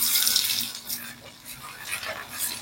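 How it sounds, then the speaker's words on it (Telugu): Small fish frying in hot oil give a steady, close sizzling hiss with uneven bubbling surges and no talking. "ఇప్పుడు వీటిని ఫ్రై చేసుకుందాం."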